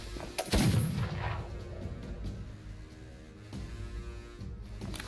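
A blunderbuss fires in the Mordheim video game, one loud booming blast near the start that rolls off into a long rumbling tail over a low ambient hum.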